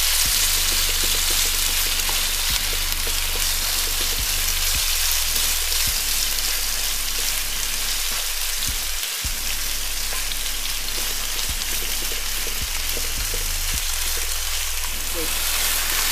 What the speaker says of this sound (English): 1 tablespoon of cooking oil. Once it's hot enough, put in the marinated pork